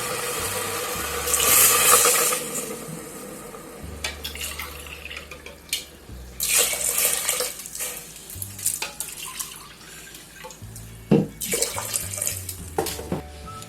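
About two and a half cups of water go into a pot of whole masoor dal, heard as close splashing pours in several bursts with pauses and small clinks of the vessel between them.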